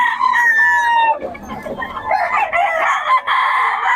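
A young stag rooster crows loudly and close by, then clucks and squawks among other chickens at a gamefowl yard in Bocaue, with more crowing and cackling continuing to the end.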